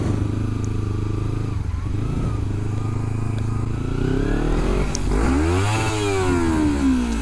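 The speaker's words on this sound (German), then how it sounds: "Ein Glück war der Motor warm, dass ich bis zum Begrenzer drehen konnte" A warm car engine revs hard toward the rev limiter, a loud, close, sustained roar that holds steady and then climbs and falls in sweeping pitch toward the end, with a faint voice underneath.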